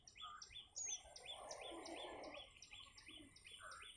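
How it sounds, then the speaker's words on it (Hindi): Faint, steady bird chirping repeats in quick high tweets, with a soft wash of outdoor background underneath. "पीछे के ना पंछियों के चहचहाने के साउंड को देखिए, सुनिए आप"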